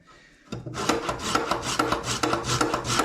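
Someone grates on a kitchen grater, cutting in after a quiet half second with a steady run of close, loud, rhythmic rasping strokes.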